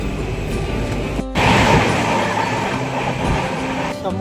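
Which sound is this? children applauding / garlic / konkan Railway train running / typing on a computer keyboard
konkan Railway train running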